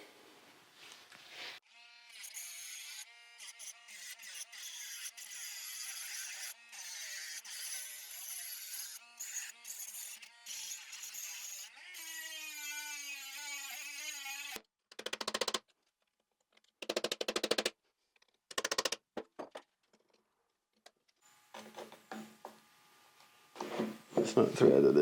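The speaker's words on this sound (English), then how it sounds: "let me see if I can grind this and get that freed up" An angle grinder works at a stuck part on a 1976 Jeep Wagoneer during a brake and part-time kit job, buzzing steadily for about fifteen seconds and then cutting in short bursts, with brief speech in between.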